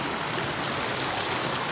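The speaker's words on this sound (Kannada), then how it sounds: "ಕೊನೆಗೂ ನೀರು ಹರಿತಾ ಐತೆ" Steady rushing of a stream flowing through a forest near a waterfall, a continuous broadband wash of water without pause, fairly close and even in level.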